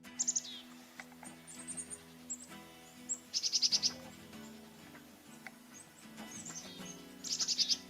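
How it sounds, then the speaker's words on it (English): Black-capped chickadees call outdoors in a neighborhood, with short bursts of high chick-a-dee notes at the start, in the middle and at the end, plus scattered faint chirps from other birds in between, all fairly distant. "And there's that chickadee call where it's saying its own name"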